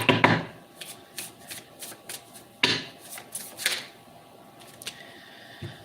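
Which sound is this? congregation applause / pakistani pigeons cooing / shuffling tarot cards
shuffling tarot cards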